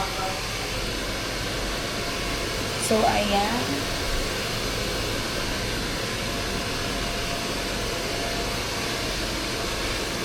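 Steady broadband blowing noise, like a hair dryer running nearby, continuous throughout with a brief voice speaking over it.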